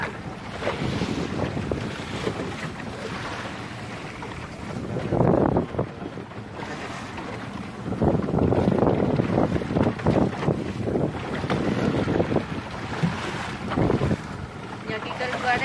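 Steady wind buffeting the microphone over the rumble of a moving boat and washing sea water, with surges of louder gusts and splashes throughout.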